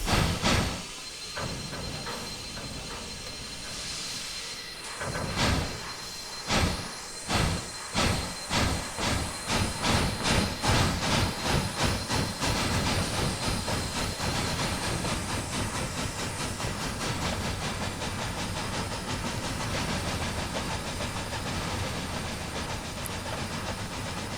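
Simulated Harriman MC-1 2-8-8-2 steam locomotive in Trainz 2019, its exhaust chuffs starting slow and spaced, then quickening into a dense rapid beat over steady hiss and rail noise, loud and continuous with no talk.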